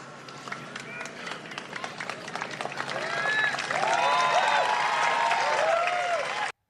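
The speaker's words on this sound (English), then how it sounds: "Listen to their tepid, late, pity applause." Tepid, late applause from a crowd at a Trump rally, scattered claps swelling into a steady wash of clapping under a talking voice.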